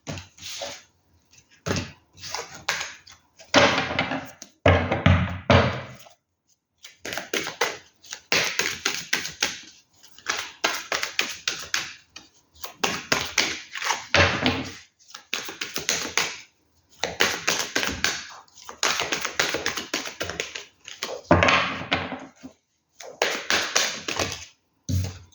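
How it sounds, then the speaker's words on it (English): Repeated bursts of tarot cards riffling and tapping together, in short rapid flurries separated by brief pauses, close and crisp with no talking. "Too many cards. Let's keep shuffling."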